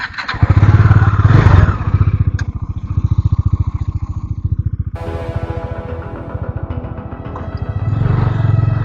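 A new motorcycle runs on a road, its engine a loud, steady close-up putter with a rising and falling throttle and a sharp shift in tone midway, without any voices.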